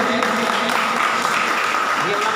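An audience claps at a prize-giving function, a dense, steady wash of applause that runs through the whole moment without a break.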